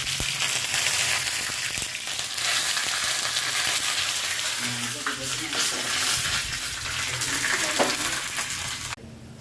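Mustard seeds, three garlic cloves and curry leaves frying in hot oil give a steady, loud sizzle with faint crackles throughout, ending abruptly at the close.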